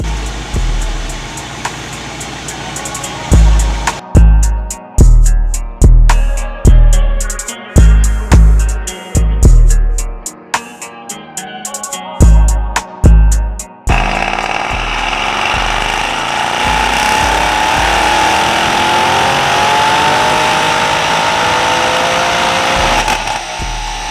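A Mercedes E63 AMG with downpipes and an ECU tune runs on a dyno, first giving loud rhythmic engine bursts in a choppy series, then building into one sustained high-revving roar that climbs steadily in pitch until the end.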